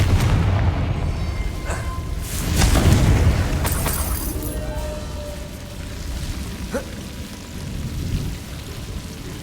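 A Confringo blasting spell explodes in Hogwarts Legacy, a deep booming blast with a crackling, rumbling tail, followed by smaller impacts and lingering ambient rumble.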